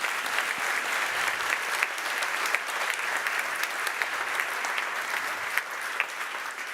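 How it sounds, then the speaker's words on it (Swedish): An audience at a panel debate in Lund claps warmly and steadily for the whole stretch, a dense, even patter of many hands with no voices over it. "En varm applåd för dem också."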